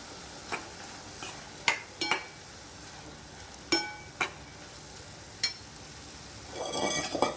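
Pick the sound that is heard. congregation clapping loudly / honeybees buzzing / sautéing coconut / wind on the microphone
sautéing coconut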